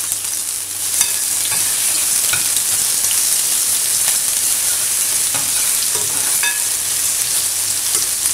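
Steady close sizzling of cumin seeds frying in hot oil for rajma masala curry, with occasional soft crackles and stirring taps throughout; no voices.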